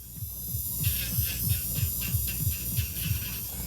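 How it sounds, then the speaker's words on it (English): An electric nail drill runs against a cuticle, giving a steady close whir with a faint rhythmic pulsing as the bit works, and no voices. "if we're going to be cleaning out the cuticle with the machine"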